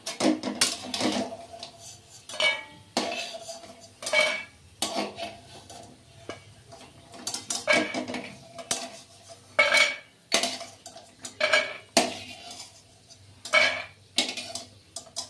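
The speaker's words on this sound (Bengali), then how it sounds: "এবার আমি একটা পাত্রে বড়িগুলো তুলে রাখলাম।" A spatula scrapes and taps a pan as fried lentil dumplings are lifted out into a bowl, making repeated metallic clinks and scrapes in short, uneven bursts with quiet gaps between.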